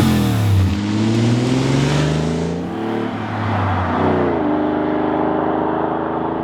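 A Lamborghini's 5.2-liter V12 engine with four valves per cylinder revs hard nearby, its pitch climbing and dropping through several gear changes in a loud, smooth howl.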